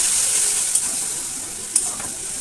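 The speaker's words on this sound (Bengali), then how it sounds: "শুধু মশলাটা কষে নিলেই হয়ে যাবে।" Spice masala for a duck egg curry sizzles and crackles steadily in a hot pan, with a couple of sharp scraping clicks as it is stirred and fried, close and alone without voices.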